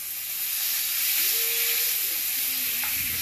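Pork tenderloin sears in a hot pan with a constant broad sizzle and hiss, close and steady, while faint utensil or pan tones drift underneath.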